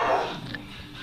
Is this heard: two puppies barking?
yes